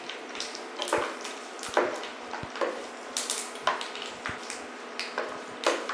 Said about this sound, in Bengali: ফাটছে, এটা খুব ফাটে তেলে দিলে।